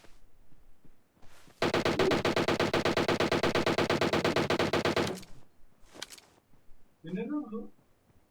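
Rapid automatic gunfire in PUBG Mobile on the Livik map rattles out in one long, loud, even burst of shots, followed by a few scattered sounds and a short bit of voice.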